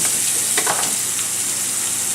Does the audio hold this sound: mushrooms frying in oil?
yes